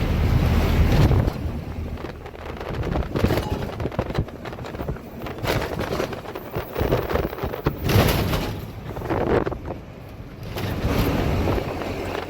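The Kaveri river runs in heavy flow on its way from Karnataka into Tamil Nadu, making a constant loud rush of water mixed with gusty wind buffeting the microphone, with no voices.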